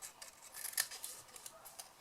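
Scissors cut through paper card while a gift bag card is being made. Quiet, close snips and rustles come in quick succession, with one sharper cut near the middle.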